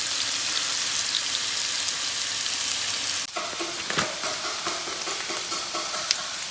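Butternut squash frying in a pan gives a constant crackling sizzle, joined midway by clattering stirring sounds and scattered pops close up.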